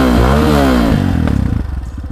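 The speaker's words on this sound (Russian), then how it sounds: "А сейчас давайте заведем мотоцикл." A Rottor Titan 250 motorcycle engine fires up and settles into a steady, loud idle with a rhythmic low chug, up close.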